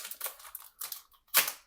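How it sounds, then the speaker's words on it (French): A Panini Contenders basketball trading card pack is ripped open, several short crinkly tearing bursts ending in one louder, sharper rip, close and alone. "C'est une galère à ouvrir."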